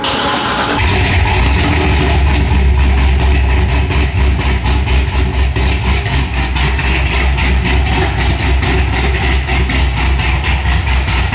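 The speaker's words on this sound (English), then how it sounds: "let's just listen to the car one last time. One little, nice little cold start." Corvette Z06 engine running after a cold start, a loud, steady low rumble with a fast pulsing idle throughout, close and alone without any talk.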